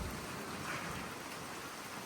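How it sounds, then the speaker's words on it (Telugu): Steady rain pours down on a narrow mountain ghat road in Himachal Pradesh, a continuous close hiss of falling water with no talk. "వర్షం కొడుతుంది, రోడ్డు చాలా చిన్నగా ఉన్నది."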